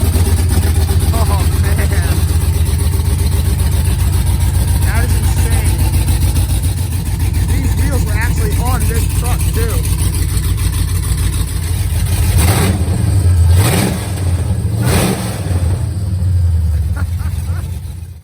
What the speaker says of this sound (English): this guy's got this LS swapped single cab short bed Chevy. Just going to start it right up